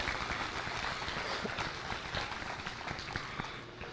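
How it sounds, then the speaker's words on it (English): Audience at a junior hog show breaking into steady applause, a dense wash of clapping from many hands filling the space at moderate loudness throughout. "Let's give him a round of applause"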